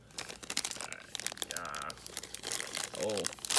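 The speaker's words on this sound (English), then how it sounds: "I'm gonna need to use more scissors." Scissors snip through Funko advent calendar packaging, with crinkling and crunching plastic and cardboard in quick, irregular bursts up close while someone talks.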